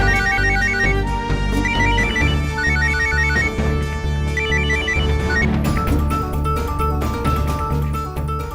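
A telephone ringtone plays as a repeating electronic melodic pattern in short bursts, loud and close, set over a dense musical background with no talking.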